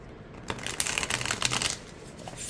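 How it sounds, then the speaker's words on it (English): An oracle card deck is riffle shuffled close up, giving a quick burst of crisp fluttering card snaps that runs for about a second before settling. "Riffle shuffles just fine."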